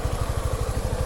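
A motorcycle engine idling close by, just started: a fast, steady low thudding pulse with mechanical clatter, loud and alone.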